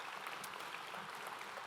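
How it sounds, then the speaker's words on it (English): Steady applause from a summit audience, a dense wash of clapping filling the short moment without any voice over it. "Give him a round of applause"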